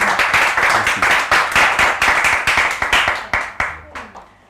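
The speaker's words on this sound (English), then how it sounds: "With round of applause, let's welcome our beautiful guest." A studio audience claps to welcome a guest onto a talk show, a steady round of rhythmic applause that tapers off into a few final spaced claps.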